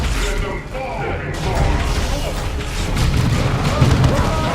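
A Dawn of War 2: Chaos Rising battle rages with dense gunfire, booming explosions and mechanical clatter layered together, loud and continuous, with voiced unit lines mixed in over the combat.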